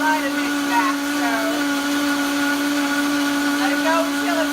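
A Vitamix blender runs steadily at high speed blending vegan mozzarella, a loud continuous motor whine with a strong steady hum and shifting overtones throughout, no talk.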